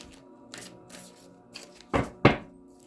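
Tarot cards from the Dreams of Gaia deck are shuffled by hand in a few separate bursts of riffling and slapping, the last two louder and closer, with quiet pauses between and no talk.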